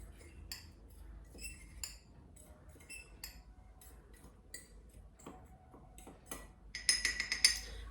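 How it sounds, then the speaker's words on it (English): A fork clinks against the inside of a mug as it stirs dry mug cake ingredients, including baking soda, giving light, irregular taps that grow louder and quicker near the end. "Now I am going to mix this material by this fork of all dry ingredient."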